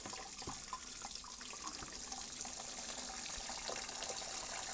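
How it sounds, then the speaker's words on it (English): Water pours and gushes steadily onto a coir block in a container, a continuous splashing hiss throughout. "So I've added the water."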